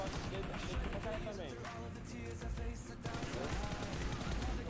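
Rifle fire in the mobile battle-royale game PUBG Mobile, with repeated sharp gunshot bursts crackling through busy game noise and music, loud and close, with some talk mixed in.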